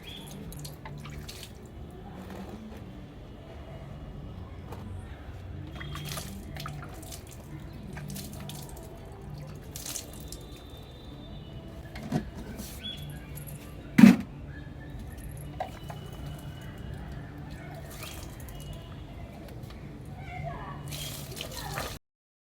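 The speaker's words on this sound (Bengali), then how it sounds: "আর গাছে জল দিতে হয়।" Plants watered with a steady, soft trickle and patter of running water, faint and continuous, with occasional knocks and clinks and a brief louder bump partway through, and no talk.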